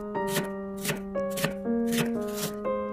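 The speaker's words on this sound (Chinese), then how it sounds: "再准备半个洋葱，先切成洋葱丝" A knife chopping half an onion into strips on a cutting board, making about six evenly spaced crisp chops over steady background music.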